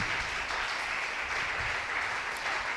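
Sustained applause from a large church congregation during a worship service, steady and dense throughout, with no talking over it.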